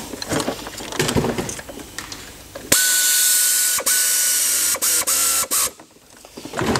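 A ratchet tightens the water pump bolts on a Volkswagen Passat 2.0 TSI, starting with rustling handling, then a sustained close clicking run broken by several short pauses before it stops.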